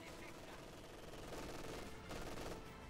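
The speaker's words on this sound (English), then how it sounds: "This machine gun crew in this house, they're super valuable." Machine gun crew firing from a house in the Company of Heroes 2 video game, with steady rapid gunfire and distant battle noise heard faintly and continuously under the game mix.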